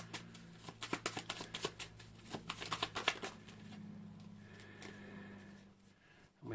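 A tarot deck is shuffled with quick, crisp riffling clicks for a few seconds, then a card is drawn with softer sliding sounds in a quiet room.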